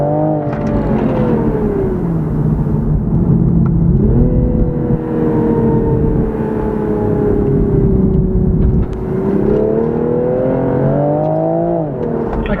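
A Toyota GR Supra accelerating hard on the road, its engine note climbing steadily from inside the cabin, easing off briefly and then pulling again through rising revs, loud and continuous with no talk over it.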